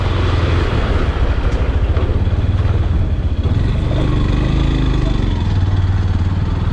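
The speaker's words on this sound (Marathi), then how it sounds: "खूप भयंकर ट्रॅफिक आहे घाटावर" Motorcycle and car engines idle and rumble in a heavy traffic jam on a mountain ghat road near Surat after a truck accident, a continuous close engine drone with small pulses throughout.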